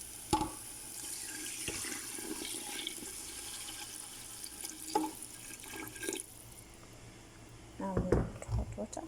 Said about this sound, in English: Now you'll put hot water.